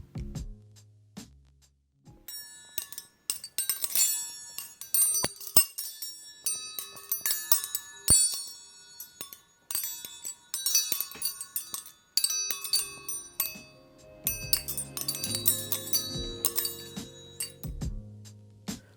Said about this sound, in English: Now we can listen to our chime.